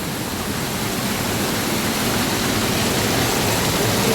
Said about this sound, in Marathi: धबधब्यावर.